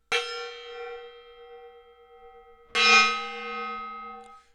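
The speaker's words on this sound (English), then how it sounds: "Here comes that gong." A gong is struck twice, each hit ringing out bright and metallic with a long shimmering decay, the second blow louder than the first, no talking.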